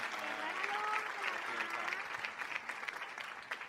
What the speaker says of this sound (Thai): ขอเสียงปรบมือดังๆให้กับน้องโฟน